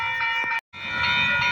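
A freight train starts to move, with a steady low rumble and sustained high metallic squealing tones, broken by a brief gap of silence midway.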